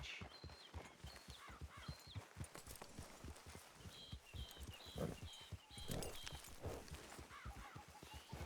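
Horse hooves pound rhythmically in a fast gallop in the video game Red Dead Redemption 2, with high tonal chirps and jingling sounds layered over the steady beat.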